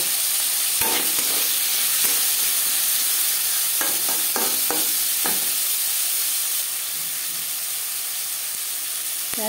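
Potato pieces fry in hot oil in a karai, a steady close sizzle and hiss broken by a few sharp stirring scrapes.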